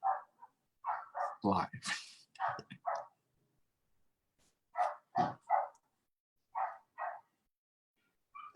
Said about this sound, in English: Sounds like a dog, is it?